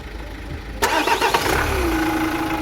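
A 2020 Renault Master van's 2.3-litre engine cranks briefly and catches, then settles into a steady, close idle that hums on after the start.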